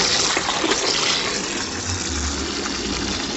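Water pours steadily from an outdoor household tap in a close, continuous, hissing gush, with no voices.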